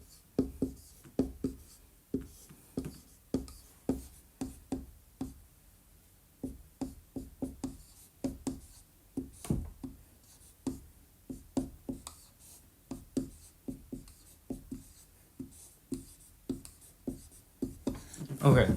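Pen or pencil writing out math answers on paper, a close run of short scratchy strokes and taps in an uneven rhythm, with a voice speaking intermittently over it.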